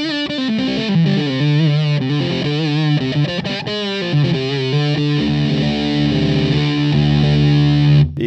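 Electric guitar through an Electro-Harmonix Big Muff Ram's Head fuzz pedal, playing a thick, saturated, sustained riff with bending notes, loud and continuous with no voices.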